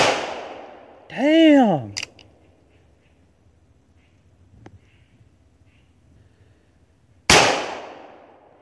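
Brass-framed revolver firing, two sharp loud gunshot cracks several seconds apart, with a short exclaimed word and a whoop of voice between them.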